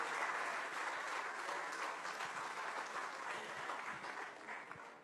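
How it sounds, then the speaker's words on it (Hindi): Sustained audience applause and clapping at a televised Agenda Aaj Tak event, a dense, steady wash of many hands that carries evenly from start to finish with no talk over it. "इतनी ताली और ऐसा स्वागत जो फिल्म स्टार सब भी आ रहे हैं उनके लिए भी नहीं हुआ है"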